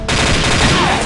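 Dense, loud bursts of automatic gunfire in the online shooter game Xshot Online, a continuous rattling barrage running through the whole moment during a competitive match.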